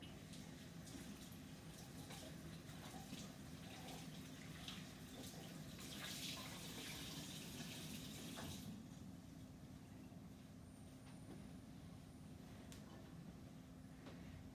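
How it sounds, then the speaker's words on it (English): A kitchen tap runs while hands are rinsed, a faint, steady rushing hiss with a brief stronger splash near the middle, then a thinner, quieter flow, and no talking. "So I'm going to give my hands a quick rinse."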